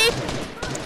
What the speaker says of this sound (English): Oh, someone's shooting at me, Neve.